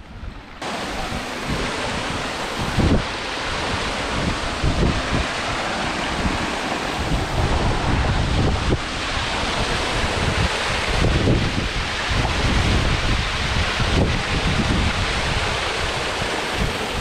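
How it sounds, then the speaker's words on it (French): A small mountain waterfall near the Col de Pouriac pours steadily, a dense, unbroken rush of water mixed with some wind buffeting the microphone, with no voices. "Et une petite cascade"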